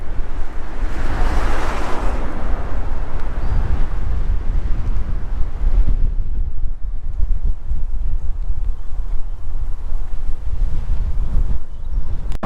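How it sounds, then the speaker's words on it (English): Wind buffets a GoPro Hero 7's internal microphone outdoors, a steady loud rumbling roar with gusty surges throughout, heavier at the start and continuing alone without any voice. "there's a bit of breeze now"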